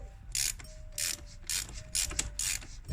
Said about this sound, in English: take your 36mm socket, put it on top of the oil filter cap and remove it